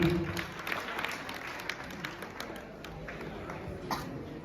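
Audience applause at a national unity camp in Ujjain, a dense, steady wash of clapping that holds at a moderate level throughout, with faint voices mixed in.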